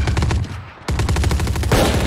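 Rapid automatic gunfire in the video game Valorant, loud and continuous bursts with a brief pause before the firing resumes, close up and sustained.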